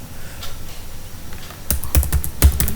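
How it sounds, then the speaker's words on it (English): Keys clatter on a computer keyboard as a command is typed into a terminal, starting faint and then turning into a loud, close run of quick clicks in the final second. "we need to type the command"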